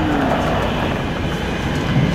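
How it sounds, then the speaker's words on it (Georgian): A train rolls past close by, a loud, continuous rumble and rattle of rail cars that holds steady across the whole moment. "მატარებელი"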